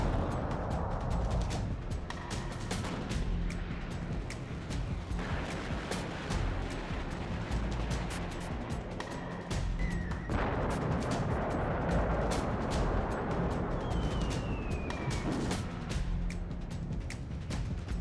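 Continuous heavy rumbling with repeated booming blasts of artillery and missile fire on the eastern front of the Russia-Ukraine war, loud and dense throughout, with occasional whistling streaks overhead.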